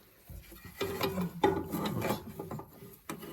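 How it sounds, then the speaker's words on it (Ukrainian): Pliers tightening the boot clamps on a Hyundai Accent during a tie rod end and boot replacement: close, irregular metallic scraping and clicking in short bursts, fairly loud, with no talk. "я взяв от такі от обценьки, якими треба гвозді вдергувати. А я хомути затягую на хундаї."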